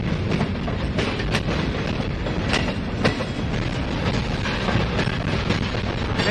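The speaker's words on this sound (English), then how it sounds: "two engines for a long ass train" A long freight train pulled by two locomotives rumbles steadily past close by, wheels clacking rhythmically over the rails with occasional sharp metallic squeaks.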